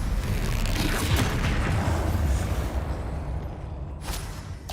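A Bombarda blasting spell explodes in Hogwarts Legacy, a heavy, sustained rumbling boom that slowly fades, with a couple of sharp cracks near the end.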